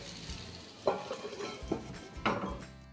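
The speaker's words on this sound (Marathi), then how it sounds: "अल्टीपल्टी करून घ्यायची म्हणजे जेणेकरून ही सर्व बाजूनी व्यवस्थित अशी फ्राय झाली पाहिजे" Stuffed bitter gourd frying in a covered pan while being turned over, with a steady soft sizzle broken by three distinct clattering knocks of the pieces and utensil against the pan.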